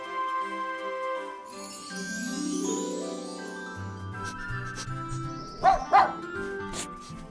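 A puppy yips and whimpers amid jingly background music, with two sharp yelps near the end.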